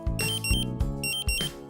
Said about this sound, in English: The A2 main alarm indicates danger to life.